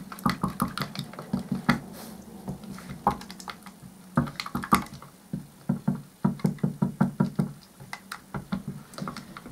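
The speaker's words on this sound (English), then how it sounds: "Give it a good stir up." A tin of gloss paint is stirred with repeated knocking and scraping strokes against the tin, steady rhythmic taps close by, with a brief pause midway before resuming.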